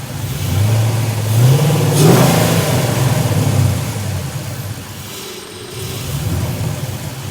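A Pontiac GTO engine revving during a throttle test, loud and close, with a rising rev that swells, holds, then falls back to a rough idle before lifting again.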